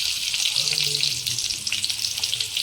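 Onion frying in hot oil for a village-style mutton dish gives a steady, close, bright hiss and crackle that holds throughout, with a faint low murmur underneath.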